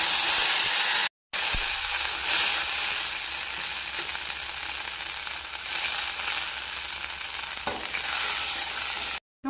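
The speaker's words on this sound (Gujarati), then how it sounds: "હવે આપણે વઘાર કરી દઈએ।" Mustard seeds and spices tempering in hot oil for Gujarati kadhi, a steady close sizzle and crackle that runs unbroken apart from a brief cut near the start.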